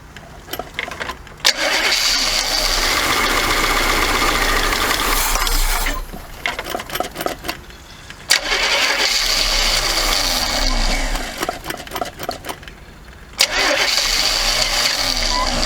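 A 1979 Chevy G20 van's engine with a fuel problem cranks in three long, loud, rhythmic starter bursts separated by short pauses, never catching and running.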